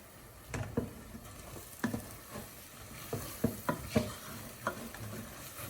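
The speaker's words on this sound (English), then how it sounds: "So we'll start with the red lentils. We're going to give it a stir now." A spoon stirs red lentils cooking in a pot, making repeated scraping knocks in an uneven rhythm over a soft sizzle, close and clear with no talking.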